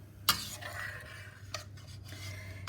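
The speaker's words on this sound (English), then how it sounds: "Let me stir that up a little bit." Shrimp chowder, dairy-free, stirred in a pot with a spoon: faint scraping and two brief clinks of metal on the pot, quiet and close.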